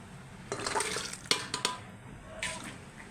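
Cooked country chicken is scooped out of a pressure cooker with a bowl, giving a few wet clinks and liquid slops in quick bursts, close and moderately loud with quiet pauses between.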